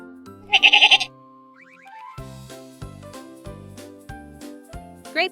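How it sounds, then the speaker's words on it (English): A sheep gives a short, quavering bleat near the start, then a playful boing sound leads into a bouncy musical beat. "What sound does the sheep make?"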